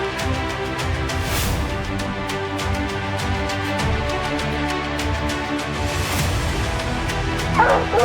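Hunting hounds released on fresh tracks in snow, barking and yipping in rapid repeated bursts with some whimpering, loud and close, several dogs overlapping throughout.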